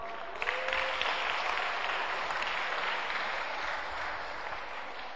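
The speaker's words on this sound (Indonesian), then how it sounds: "Tepuk tangan untuk orang-orang yang jujur" A seminar audience claps together in sustained, dense applause that holds steady and loud for several seconds, with no voices standing out.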